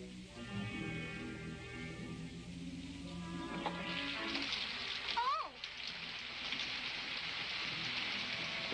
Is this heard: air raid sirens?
no